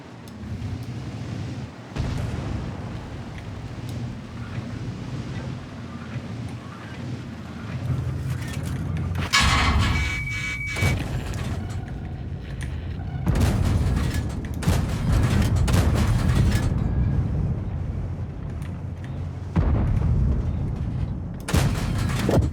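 Tank cannon fire in the World of Tanks video game, several heavy booming shots and blasts spread across a dense, continuous battle soundscape with rumbling engine noise.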